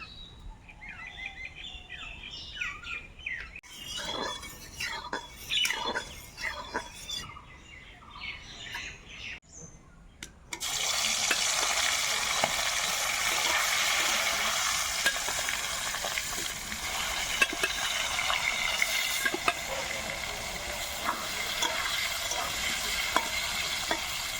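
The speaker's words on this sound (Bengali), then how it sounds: "মাছটা ভাজা হতে থাক" Fish frying in hot oil in a wok, a steady loud sizzle that starts abruptly partway through and continues alone after quieter clattering and birdsong from outside.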